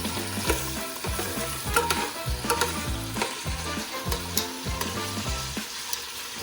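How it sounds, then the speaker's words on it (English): Meat for nihari, marinated in ginger and garlic, sears in a hot pan with a loud, continuous sizzle and crackle. Rhythmic scraping pulses run through it, close up, with no talk. "Next step, let it sear for a little bit."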